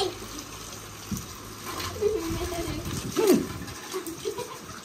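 Water runs from a tap in a village home as a soft, steady wash, with muffled voices and small knocks over it.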